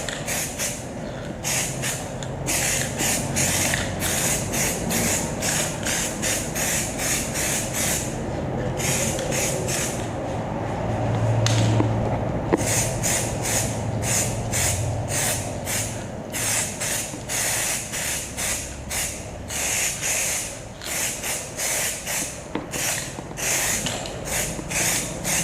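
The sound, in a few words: aerosol spray paint on a motorcycle frame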